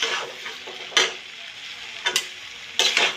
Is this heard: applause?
no